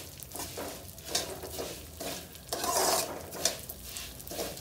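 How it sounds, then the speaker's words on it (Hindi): Broken wheat (dalia) roasting in ghee in a pan, giving a soft, steady sizzle with intermittent scraping and stirring strokes, moderately close and fairly quiet, with no voices. "आप दलिए घ्यो च दो मिनट वास्ते वास्ते भुन्नांगे"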